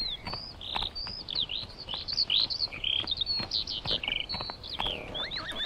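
Several birds sing and chirp in quick, overlapping bursts of high tweets, fairly faint, with no talking.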